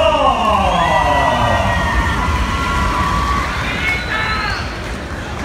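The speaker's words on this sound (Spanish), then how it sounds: "¡El aplauso!" A large crowd cheers and applauds at a bull-riding rodeo for Rancho El Tejano and its bull El Terrible. The roar is loud and continuous, with shrill rising and falling horn- or whistle-like tones sweeping over it.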